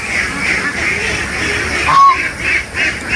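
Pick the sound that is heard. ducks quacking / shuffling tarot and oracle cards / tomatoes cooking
ducks quacking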